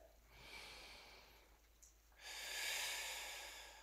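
Slow, deep breathing during a workout balance pose, a soft airy inhale followed by a stronger, longer exhale, close and fairly quiet with no talking.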